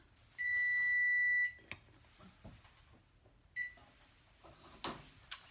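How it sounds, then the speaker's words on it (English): A kitchen timer beeps in one long electronic tone, then a short second beep, followed by quiet kitchen clatter and light knocks. "Oh, let me turn that timer off."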